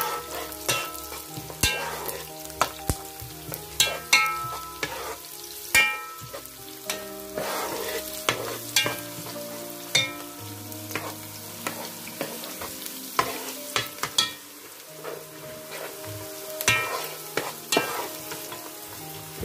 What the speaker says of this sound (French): Donc voilà mes oignons déjà blanchis. Donc je vais rajouter directement mon poireau.